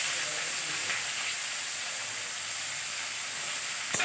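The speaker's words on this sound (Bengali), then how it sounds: "দুটো তেজপাতা দিলাম, একটা শুকনো লঙ্কা দিলাম, কাঁচা লঙ্কা দিলাম, পেঁয়াজটা বাজিয়ে দিলাম" Onion, bay leaves, and dried and green chillies fry in a pan, giving a steady, even sizzle and hiss that carries on without a break and with no talking.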